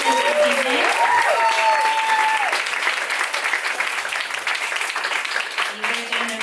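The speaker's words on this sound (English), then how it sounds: "One more round of applause for all of our participants this evening." An evening audience applauds the participants, steady dense clapping that swells and then thins over several seconds, with voices and tonal sounds layered over it.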